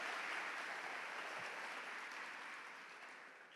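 An audience at a talk claps in a dense, steady burst of applause that gradually fades over a few seconds.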